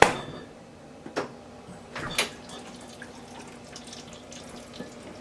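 Water runs faintly from a Frigidaire Gallery refrigerator's water dispenser in a quiet room, with a few soft clicks and splashes as it flows.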